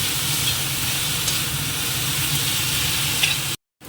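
Food frying steadily in a pan as a small amount is cooked before grinding, a continuous close sizzle and crackle with faint stirring, cut off abruptly near the end.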